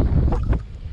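Strong wind buffets the microphone during a stormy off-road bicycle ride, a loud continuous low rumble with gusty surges and no speech.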